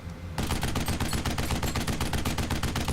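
Rapid automatic gunfire in the video game Duke Nukem Forever bursts in after a brief quiet moment and continues as a loud, dense, unbroken stream of shots.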